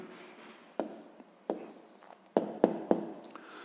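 Handwriting on paper as an answer is written down, giving a few short scratchy pen strokes with brief pauses between them, close and fairly quiet.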